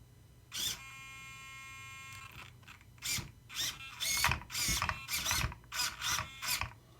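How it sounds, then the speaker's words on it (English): A stock Traxxas RC servo whirs and ratchets in short bursts as it is powered up and turned, a series of close mechanical gear buzzes with brief gaps between them. "I'm going to power that up and turn it with the stock servo"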